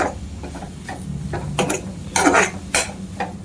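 A spoon clinks and scrapes in a pot while stirring amla gooseberry jam, giving several irregular metallic taps and scrapes close by, fairly loud and without speech.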